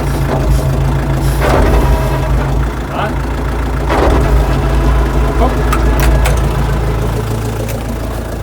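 Car engine idling and revving with the steering turned hard and the clutch dropped sharply to spin the wheels; a rough, loud engine drone rises in bursts over several seconds, with people talking over it.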